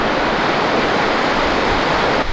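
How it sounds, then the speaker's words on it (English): Sea waves roll in on the sandy beach at Lunan Bay in Scotland, a loud, continuous wash of surf filling the scene with steady noise and no speech. "The water is coming in, yeah."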